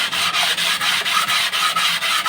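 A Suzuki Satria FU camshaft part is rubbed back and forth on sandpaper glued flat to glass, giving a loud, rhythmic rasping scrape of about ten even strokes with no talking.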